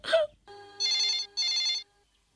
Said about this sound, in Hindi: फोन बजने दो, कोई फोन नहीं उठाएगा